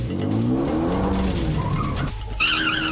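A V8 Supercar race car screams past on the track with a loud engine roar, tyre squeal under hard cornering and a rising gear-change whine, close and intense.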